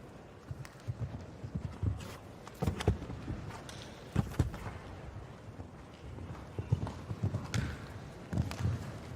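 Horse hooves clip-clop on ground during a show jumping competition at an indoor Christmas event, with irregular strides that come and go amid faint arena murmur.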